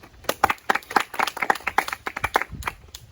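Audience clapping for a team at a school science quiz, a short burst of sharp claps from a small group, close and uneven, fading toward the end.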